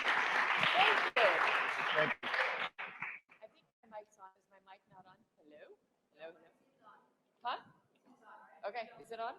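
An audience claps for the speakers at a talk-series event: a dense burst of applause for about two seconds that quickly thins into scattered claps and fades as low talk takes over.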